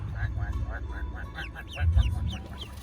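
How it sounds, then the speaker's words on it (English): Ducks quack in a rapid series of nasal calls, fairly close, over a low rumbling background with voices murmuring briefly. "got 2 cocky ducks"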